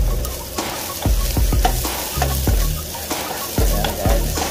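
Onions sautéing and being stirred in a hot pan for mung bean guisado, a loud steady sizzle broken by repeated close scrapes and clatters of the spoon, with no talk.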